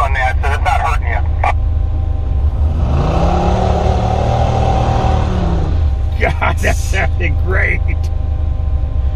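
Engine of a muscle car revving on a muddy ledge, a loud rising and falling roar with tires churning, heard under excited voices talking over it.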